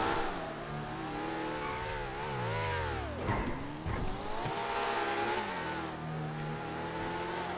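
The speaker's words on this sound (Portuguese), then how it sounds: "O barulho do meu carro você escuta." A car engine revs and accelerates up and down in pitch, sweeping higher and lower several times, fairly close and steady throughout.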